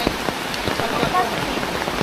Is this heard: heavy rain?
yes